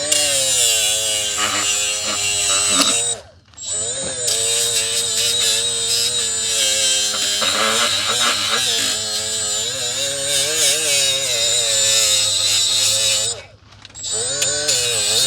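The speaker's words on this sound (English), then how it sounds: "Get my grinder in there." An angle grinder whines at high pitch against the water pump of a 1985 Merkur XR4Ti, running close and loud with a steady tone that dips briefly twice as the tool pauses.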